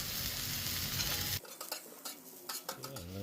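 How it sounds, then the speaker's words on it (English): Onions grill in oil on a Blackstone griddle, giving a loud, dense sizzle that drops off abruptly partway through. Metal spatula scrapes and clinks against the griddle follow. "I laid some oil down. I want to have some grilled onions on mine."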